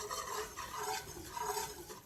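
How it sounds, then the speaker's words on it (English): Flour is stirred in a pot for vegan gumbo roux, a soft continuous scraping and rubbing close by, faint and steady with slight rhythmic swells. "So in the beginning, you're stirring."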